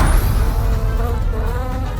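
A bee buzzes steadily and loudly up close as it flies off, a continuous droning hum with no speech.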